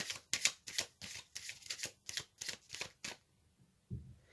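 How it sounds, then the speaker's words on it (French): Tarot cards are shuffled and drawn from a deck in a quick series of about ten crisp, rhythmic riffling bursts, close and clear, ending in a soft thud as a card is set down. "Je vais tirer une carte supplémentaire."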